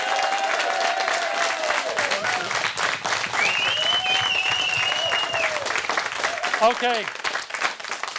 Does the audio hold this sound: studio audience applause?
yes